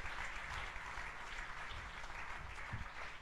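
A church congregation applauds steadily throughout a worship service, a dense, even wash of clapping at moderate loudness with no speech over it.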